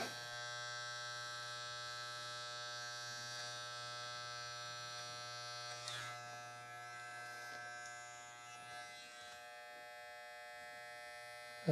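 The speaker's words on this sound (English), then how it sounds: "I very lightly touch the clipper to the skin" An electric hair clipper running beside the ear during a boy's clipper-over-comb haircut, a steady close buzzing hum with light changes as the blades touch skin.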